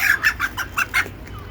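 Native chickens cluck nearby in a quick run of about five sharp, rhythmic clucks, then fall quiet, with no voices.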